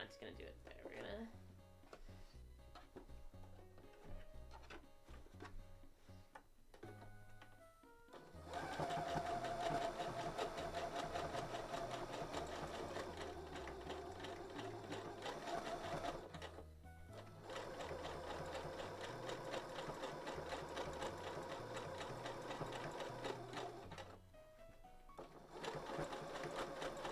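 A sewing machine stitches a dress in bursts of rapid, rhythmic mechanical chatter, starting and stopping several times, with a short pause where fabric is adjusted between runs.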